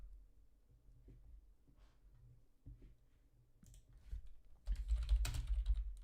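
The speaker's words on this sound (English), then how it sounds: "Sorry for the loud typing." Computer keyboard typing, loud and close, with scattered key clicks that build into a denser burst near the end; no one speaks.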